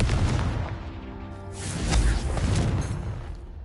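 A Confringo spell blast in the Hogwarts Legacy video game, a loud booming burst with a whooshing rush that swells and lingers for a few seconds, heard alone.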